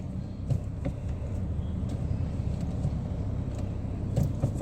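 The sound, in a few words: Skoda Laura car engine starting after long cranking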